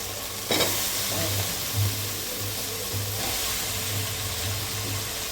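Chopped vegetables sauté in a pan with tomato and ginger-garlic paste, a steady close sizzle and hiss with a few stirring scrapes and a low background hum.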